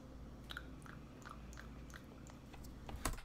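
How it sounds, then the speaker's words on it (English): Jelly bean being chewed close to the mouth, a quiet run of soft, sticky bites and squelches at a steady rhythm, with a brief louder crunch near the end and no talking. "Why am I chewing like that?"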